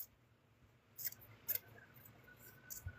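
Scissors snipping off excess fabric from a plush craft project, two or three brief, faint, sharp snips close by in a quiet room, with no talking.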